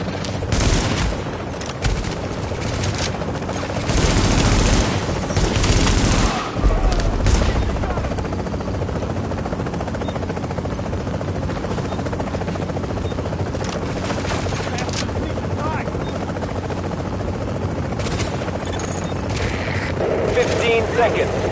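Extraction helicopter in the video game The Division, its heavy rotor drone filling the scene while bursts of rapid gunfire and booms crackle around it, loud and continuous, with a voice briefly heard.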